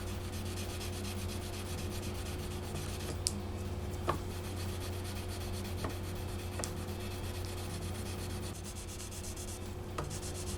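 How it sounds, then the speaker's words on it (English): Wet sanding the finish of a '74 Telecaster guitar with 1200 to 3000 grit sandpaper on a sanding block: a continuous soft rubbing rasp with a few faint ticks, under a steady low electrical hum. "I'm going to wet sand with the 1200 through 3000 grit."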